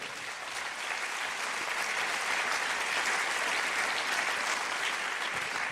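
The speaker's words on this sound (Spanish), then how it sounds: "Denle un aplauso fuerte al Señor." Steady, loud applause from a church congregation fills the room with dense clapping, sustained evenly throughout with no voices standing out.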